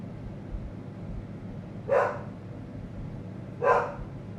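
A dog barks twice, a couple of seconds apart, as short sharp single barks over a quiet background hum.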